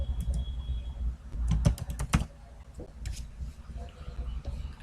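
Keys clack on a computer keyboard as an admin username is entered, a handful of sharp taps in short bursts over a soft background hum, fairly quiet and close.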